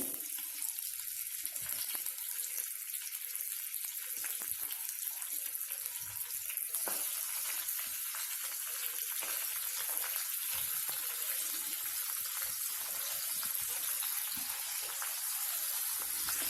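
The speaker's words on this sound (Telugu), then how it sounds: "సో తాలింపు గింజలు వేగుతున్నాయి అన్నమాట." Tempering seeds and green chillies fry in a pan with a steady, close sizzling hiss that carries on without a break, punctuated by faint crackles.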